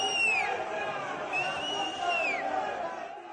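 A violent crowd surrounds football referee Anthony Taylor and his family in an airport, a dense babble of agitated voices with raised shouts and whistle-like cries rising over the hubbub throughout.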